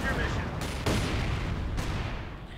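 An artillery barrage in the strategy game Company of Heroes 2: a dense rumbling fusillade of gunfire and explosions, with sharp blasts breaking through a continuous roar.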